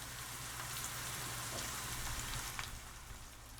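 Onions frying in hot mustard oil for bhindi masala, a steady soft crackling sizzle like light rain, continuous and close, with no voices.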